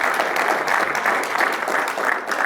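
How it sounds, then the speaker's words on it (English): A conference audience gives a round of applause after a session, with brisk, dense clapping that stays close and loud from start to finish. "Please give Jeff a big round of applause."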